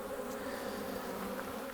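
Honeybees swarm over the brood frames of an opened hive during a colony inspection, making a dense, continuous buzzing hum that stays close and steady throughout.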